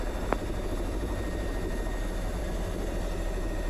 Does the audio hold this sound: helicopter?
yes